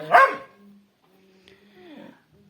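A single sharp dog bark up close, followed by quieter whines and faint vocal noises trailing off.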